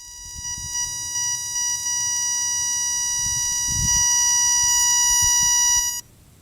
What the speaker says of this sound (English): I don't like the buzzing and crackling sound.